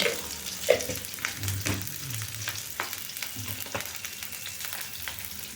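Beetroot rice ingredients sautéed with chilli powder in a pan, giving a steady low sizzle broken by irregular scraping and stirring knocks, close and moderately quiet with no talking.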